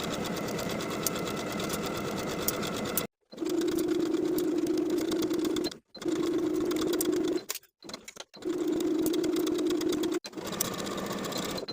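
Domestic sewing machine stitching a dress facing around a neckline for a vintage 1960s step-in dress, running in several steady whirring bursts separated by brief stops, close and clear with no talking.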